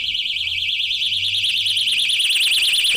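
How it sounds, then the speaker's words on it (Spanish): A personal keychain alarm sounds a loud, shrill electronic warble rapidly and continuously, a piercing wavering siren tone close by. "Es una alarma para un objeto, para un prop."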